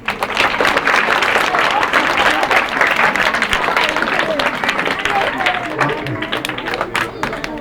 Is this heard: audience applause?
yes